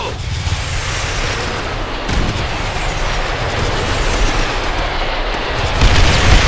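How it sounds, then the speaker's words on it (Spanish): Rocket attack in a Call of Duty battle, dense rumbling explosions and gunfire booming continuously and loud, with heavier blasts near the end and no clear talk. "Otro ataque de cohete."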